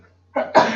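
A single short sneeze, close and fairly loud, a soft intake followed by a sharp burst of breath.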